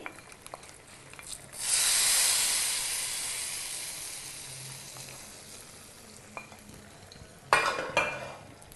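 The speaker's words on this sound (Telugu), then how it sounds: "ఉడుకుతున్న కర్రీలో ఈ తాలింపుని వేసేసేయాలి" A loud burst of sizzling erupts as a hot asafoetida tempering hits boiling black-eyed pea and brinjal curry, hissing strongly then fading, with a second sharp sizzle and scraping stirs near the end.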